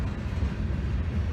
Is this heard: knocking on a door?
no